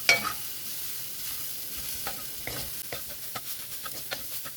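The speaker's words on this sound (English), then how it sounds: "Keep stirring till everything gets mixed well." A lentil and long bean usili fries in a pan under a soft continuous sizzle while a spoon scrapes and stirs it in irregular clicks and swishes, close and moderate in volume, with no talk.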